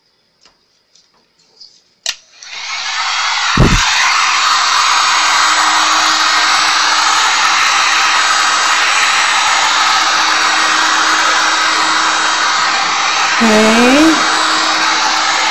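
A heat gun blows steadily on a resin dog food bowl, a loud continuous close whooshing roar that starts after a few clicks and runs to the end, with a brief spoken word near its start.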